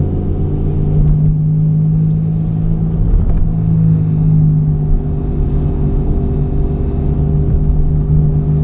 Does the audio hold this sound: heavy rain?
no